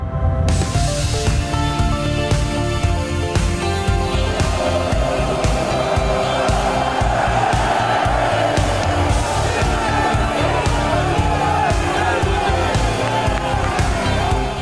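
AC Milan supporters fill Rome's Olympic stadium with a dense, sustained roar of cheering and chanting that stays loud and unbroken throughout, with no distinct voices standing out.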